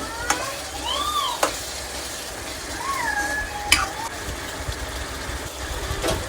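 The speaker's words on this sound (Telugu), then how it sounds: "ధనియాల పొడి వేసిన తర్వాత మొత్తం ఇలా కలుపుకుంటున్నాము" Gongura prawn fry being stirred in a pan after coriander powder goes in, a steady sizzle with occasional spoon scrapes and clinks against the pan, alone with no talk.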